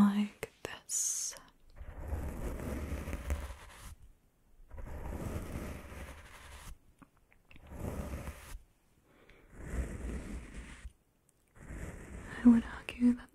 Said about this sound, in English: This is a fan brush.